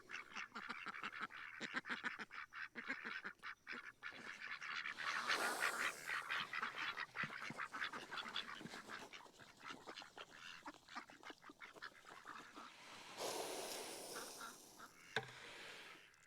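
A flock of ducks on a farm quacks continuously in the evening, dense overlapping honking calls at moderate distance, with a couple of noisier rustling bursts partway through and near the end.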